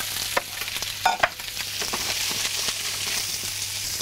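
Carrots, shallots and garlic sizzle steadily in butter in a pan, with a couple of sharper stirring knocks near the start. The frying is close and fairly quiet, and no one talks.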